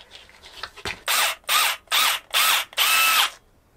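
A power screwdriver drives screws into the base of a magnetic stainless steel kitchen backsplash in a van conversion, with four loud close bursts of whirring, each lasting about half a second, separated by short pauses after softer handling noises.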